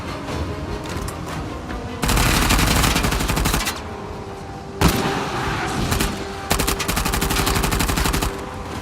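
Sustained gunfire in the Uncharted The Lost Legacy video game, loud automatic bursts rattling almost continuously with a few heavier single shots, dense and close throughout.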